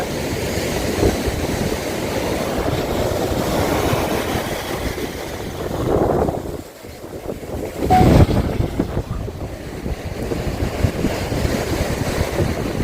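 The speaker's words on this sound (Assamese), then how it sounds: "দেখিছেনে সাগৰৰ কিমান শব্দ, বতাহ আহিছে, পানী একদম ঢেউ উঠিছে" Loud, roaring wind buffets the microphone while ocean surf rolls and crashes steadily on Marina Beach, Chennai, with one brief lull before the gusts return.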